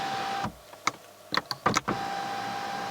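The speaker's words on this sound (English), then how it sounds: "we can adjust the blind with this button here" The electric panoramic roof blind in a 2017 Mercedes-Benz C200 Sport Estate whirs through a handful of short motor bursts with faint clicks, close and clear inside the quiet cabin.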